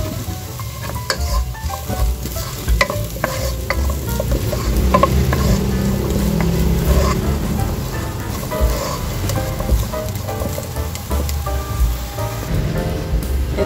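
Onions frying in a pan for pork adobo, a steady crackling sizzle with repeated scraping stirs and clinks of a utensil, close and continuous with no talk.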